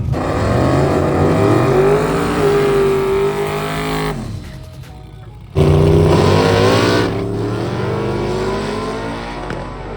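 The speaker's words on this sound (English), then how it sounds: "This pass is gonna be turned down just to make sure that we know exactly how much boost it's trying to make now with the new turbos." A drag car fitted with new turbos roars through a pass with boost turned down, its engine loud and steady, dipping briefly to a lull before surging back with strong revving.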